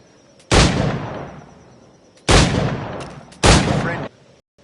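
Three loud flintlock firearm shots from Assassin's Creed Black Flag ring out in sequence, each a sharp blast with a long fading tail, spaced irregularly with the last two closer together.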